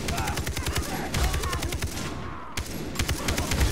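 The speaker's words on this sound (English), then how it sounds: "They've got a heavy machine gun." Heavy machine gun hammering away in Far Cry 3, rapid bursts of loud, close automatic fire that break off briefly and then resume, with a second gun chattering alongside.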